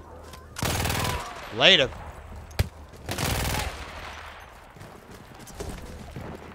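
Gunfire from a gun in Battlefield 1, two loud sustained bursts of rapid shots separated by a sharp single crack and a whooshing effect, with a brief spoken word and fainter shots trailing off.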